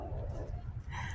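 Several dogs bark and yip at someone walking past a garden porch, quick overlapping barks and whimpers over a steady low background, close and continuous.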